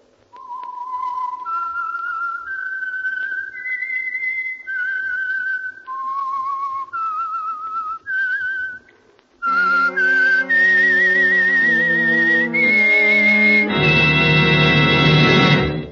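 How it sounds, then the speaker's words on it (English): A person whistles a melodic tune as a radio program's signature, clear and close, phrase after phrase, then the melody passes into fuller orchestral-sounding music. "the signal to listen for is this whistle"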